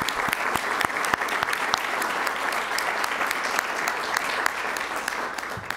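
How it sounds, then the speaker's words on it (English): Audience at a school board candidate forum breaks into applause, a full room of steady clapping with a few sharper individual claps standing out, sustained evenly throughout. "I'd like to give a round of applause to every one of you for signing up."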